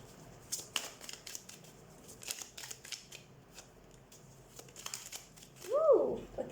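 Tarot cards shuffled and drawn, soft irregular riffling taps and flicks close by, ending with a brief chirpy squeak; no clear speech.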